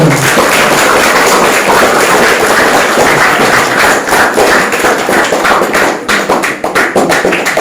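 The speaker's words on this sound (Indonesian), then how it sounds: "Coba kasih aplaus untuk kelas 72." Applause from a class of students after a midday congregational prayer gathering, a dense sustained clatter of many clapping hands that thins into scattered claps toward the end.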